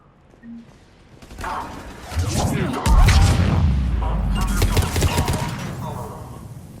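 Mass Effect 3 firefight on Omega. After a quiet opening, loud rapid weapon bursts and heavy booming impacts erupt and keep firing in clustered volleys to the end.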